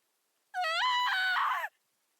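A voice actor's drawn-out scream of pain, a single loud, strained cry lasting about a second, heard alone with no other sound.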